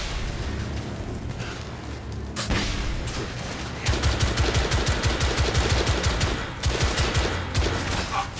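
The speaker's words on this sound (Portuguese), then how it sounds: "acertei todos os tiros" Rapid bursts of gunfire in the video game The Order: 1886, bursts of automatic shots rattling in quick succession with a few heavier booms, fairly loud and continuous.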